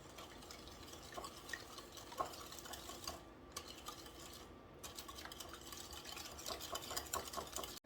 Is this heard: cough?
no